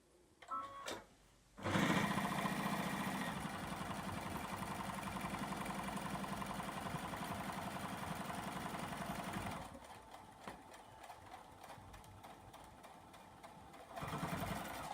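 A sewing machine runs steadily for several seconds, stitching a thick outside double pocket on a bag, then drops to a quieter, slower hum before speeding up again at the end, close and continuous.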